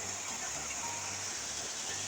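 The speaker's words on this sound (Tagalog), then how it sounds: "Lakas ng ulan." Heavy rain pouring outdoors during an approaching storm, a constant dense hiss at moderate distance with no distinct drops or voices.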